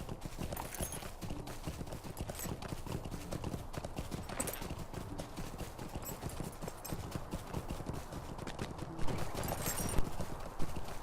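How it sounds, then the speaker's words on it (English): Horse riding in a fantasy online role-playing game, with steady clip-clop hoofbeats, jingling tack and creaking leather, continuous and fairly close, building slightly louder near the end. "The jingle, the creaks of leather, they've really captured the sound of riding a horse."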